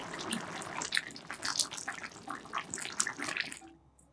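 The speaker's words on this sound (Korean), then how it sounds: "한 소끔 보글보글 끓인 후 불을 꺼줍니다." Tuna and oat porridge with lentil rice, drained tuna and added instant rice simmers in a pot, giving a close, steady run of dense bubbling and soft popping that cuts off just before the end.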